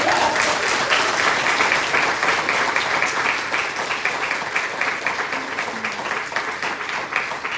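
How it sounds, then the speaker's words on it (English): Big, sustained audience applause at a comedy show, loud, steady clapping from a full room, easing slightly toward the end. "Everyone, please give a big round of applause for Jamie"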